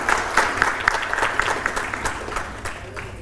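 Brief, full applause from a symposium audience for the panelists, dense clapping with a few distinct claps standing out, sustained evenly over a few seconds.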